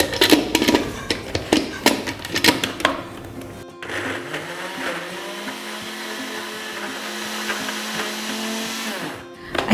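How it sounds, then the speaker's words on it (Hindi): Close handling clatter gives way to an electric chopper machine whirring steadily for several seconds as it grinds chicken for shami kabab, its loud motor drone holding an even pitch before stopping abruptly. "सिंपली हमने इसको चॉपर मशीन में डाल के इसकी मिक्सिंग करनी है अच्छे से"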